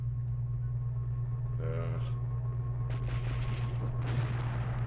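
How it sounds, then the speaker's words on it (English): Grenade explosions in the video game Return Fire, a few brief bursts against a steady low hum of game background noise, with one sharp blast followed by rumbling detonations later on. "Because the grenades do actually do damage."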